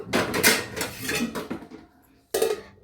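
A plate goes over a small vessel of rice-washing water, making several close metallic clatters and clinks, then a short silence and more knocks.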